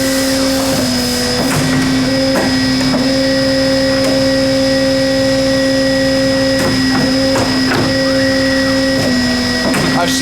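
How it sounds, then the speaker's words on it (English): A CNC tube bending machine runs its automated bending cycle, giving a loud continuous mechanical hum with steady tones and repeated clunks and whirs as the bends proceed. "it will run through its cycle and bend the tubes once I programmed it"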